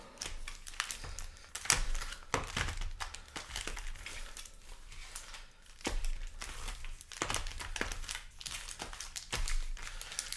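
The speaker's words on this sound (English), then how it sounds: "Give these a nice little shuffle." Commander Legends draft booster packs are shuffled by hand, their foil wrappers crinkling and tapping in quick, irregular bursts, close and fairly quiet, with no talk.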